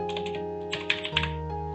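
Computer keyboard keys typed in a short burst of several close clicks during word processing, with a steady background hum and no talking.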